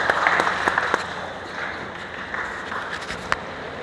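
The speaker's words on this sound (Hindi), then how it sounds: "जोरदार तालियां भाई" Audience applause at a lifting and rigging safety training session, a steady patter of hand claps from a small indoor group, fairly close and moderately loud, with a few sharper claps standing out.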